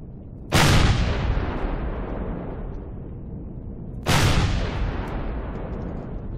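Two heavy booming blasts from weapons fire destroying turrets in the space game Empyrion, each striking sharply and then rolling off in a long decaying rumble, loud and close with no talking.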